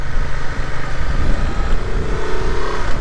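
A 2023 Honda Transalp XL 750 motorcycle engine holds steady around 2500 rpm, giving a continuous loud, close drone with an even rumbling texture and no talk over it.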